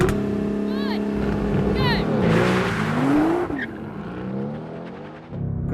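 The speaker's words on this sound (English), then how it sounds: "let's have a drag race to see which GTR is quickest" A Mercedes-AMG GT R and an all-wheel-drive twin-turbo V6 Nissan GT-R launch in a drag race, engines roaring loud and close as they rev and pull away, with a voice talking over the start.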